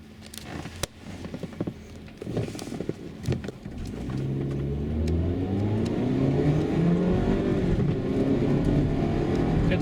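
A Mazda CX-7 2.3 Turbo running on petrol after a switch from its gas system starts with scattered clicks and knocks, then accelerates hard. The engine note rises steadily through the gears with a loud, close, continuous roar and no talking.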